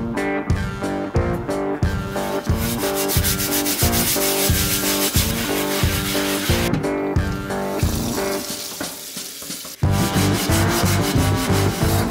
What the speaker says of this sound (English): I just got all of the rest of the grime off of the pan that we've been working on